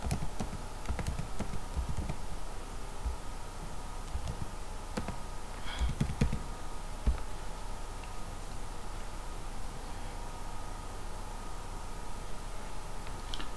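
Faint keyboard typing as a username and password are entered, scattered soft key clicks in irregular bursts over a quiet background hum.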